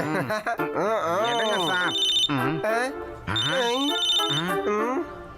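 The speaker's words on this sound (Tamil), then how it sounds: "சார் அங்க அடிக்குது சார் நீங்க ஏன் போனை எடுக்க மாட்டேங்கிறீங்க" In a Tamil action cartoon, a telephone rings in repeated trilling bursts over animated character voices.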